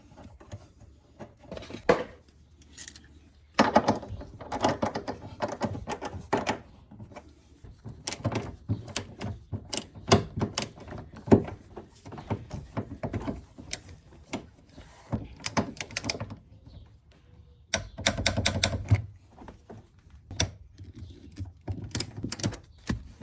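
Bolts being tightened on a Toyota Tacoma TRD Pro seat jacker, heard as scattered metallic clicks, ratchet-like taps and knocks of varying loudness, close by and with no talking.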